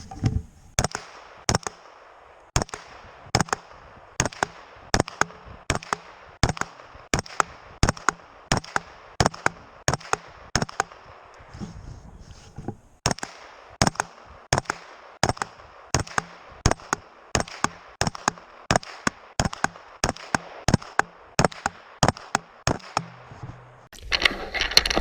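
A PSA AKV 9mm carbine firing 147 grain Winchester low recoil brass ammunition at a range: many sharp, evenly spaced shots in two long strings with a brief pause between, loud and close.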